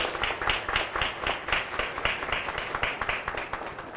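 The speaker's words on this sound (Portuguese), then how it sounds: "eu peço uma salva de palmas para o doutor Ideraldo" Attendees at the opening of a labor law symposium clap for a doctor, a few nearby hands striking in a fairly even, rhythmic pattern rather than a dense crowd roar.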